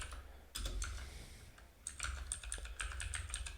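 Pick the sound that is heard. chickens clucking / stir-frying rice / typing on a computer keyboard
typing on a computer keyboard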